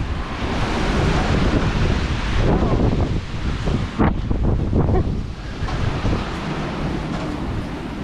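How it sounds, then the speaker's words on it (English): Strong wind from Hurricane Sally gusts steadily in Pensacola, a loud broadband roar with microphone buffeting and a sharp burst near the middle, continuous throughout with no speech. "That wind, this whistling of that wind."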